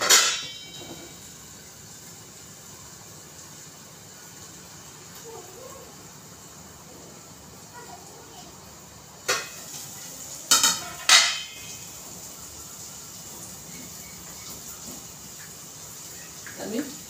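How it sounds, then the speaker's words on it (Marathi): A lid goes onto a cooking pot of village-style chicken curry. Sharp metallic clanks come once at the start and then in a quick cluster of three later, with quiet stretches between. "थोडं मिनिटं मी त्याच्यात झाकण ठेवतो"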